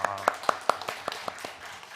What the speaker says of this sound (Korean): 우리 꿈미에게 박수 한번 쳐줍시다